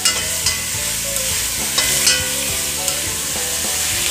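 Ground beef browning in batches in a pan over medium-low heat for chili, a strong, close sizzle broken by several scraping stirs as the spatula works the bottom of the pan, no talking.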